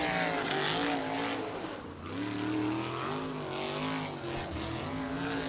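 A USAC sprint car at Tri-State Speedway screams around a lap, its engine note rising and falling as it passes down the straights and through the turns, fairly distant and steady throughout.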